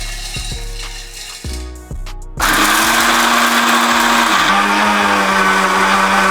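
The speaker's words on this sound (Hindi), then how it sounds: "अब हम इसको ग्राइंडर में डाल के ग्राइंड करेंगे।" A kitchen grinder starts up and grinds peeled peanuts. A loud, steady high whir runs without a break after a few brief clicks and hums. The pitch dips slightly partway through as the load shifts.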